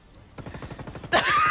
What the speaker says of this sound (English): Shooting at the ground!